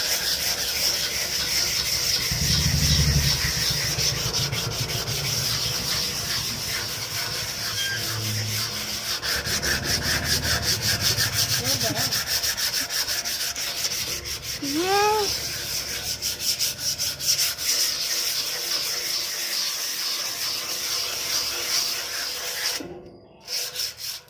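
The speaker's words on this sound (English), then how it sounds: "I'm scrubbing like crazy." Someone scrubs rust off old Indian metal furniture with Coca-Cola, a long run of rhythmic scraping and rubbing strokes, close and moderately loud, with a few faint squeaks and brief knocks.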